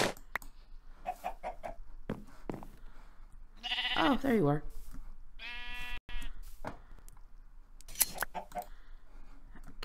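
Minecraft sheep bleat several times, wavering and close, with chicken-like clucks around them and a voice speaking briefly.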